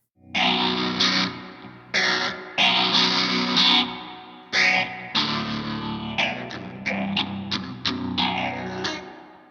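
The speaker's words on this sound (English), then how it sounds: "Let's put on some overdrive and some phaser." Overdriven electric guitar plays a run of strummed chords and short stabs, with a sweeping phaser swirl coloring the tone; no voices.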